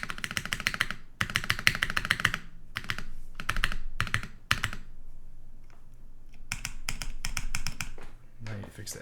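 Rebuilt Rukia Works Korsa mechanical keyboard being typed on, bursts of crisp, loud key clacks in quick rhythmic runs separated by short pauses, close up, with occasional heavier spacebar and modifier strikes.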